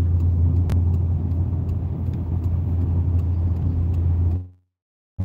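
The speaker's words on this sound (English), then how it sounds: "I can feel the vehicle shifting on the road constantly as I'm driving, like it barely has traction." Car driving slowly on a snowy, slippery highway in winter conditions, giving a steady loud engine and road rumble throughout that cuts off abruptly near the end, with a brief return of noise at the close.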